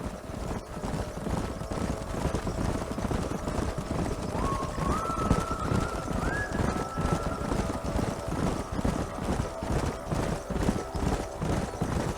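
Horses gallop in a rapid, continuous clip-clop of hooves during a canyon horse drive in the Red Dead Redemption video game, with a faint whinny and steady ambient noise behind.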